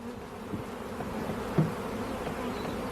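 Honeybees swarm around a beekeeper in a steady, low, droning buzz that fills the air continuously, with one bee passing close for a brief louder swell midway.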